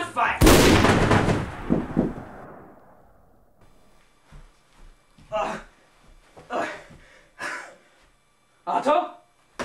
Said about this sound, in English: the gun would either fire or not fire